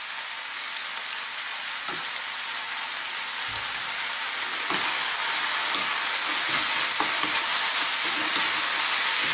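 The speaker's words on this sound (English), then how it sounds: "Give that a stir." Beef and green bean stir fry with oyster sauce sizzles steadily in a hot pan while a utensil scrapes and stirs through it, producing dense, continuous frying hiss with occasional soft knocks, close and fairly loud, no talking.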